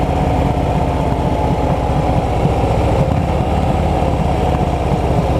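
Motorcycle engine worked with the clutch and throttle during slow-speed practice, a loud close, continuous thrumming drone with little change in pitch and no speech.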